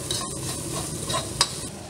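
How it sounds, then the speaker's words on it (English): Cantonese fried rice with spam and egg stir-fried in a hot pan, a continuous close sizzle with quick scraping and tossing of the spatula throughout. "you cannot ever stop moving the food around"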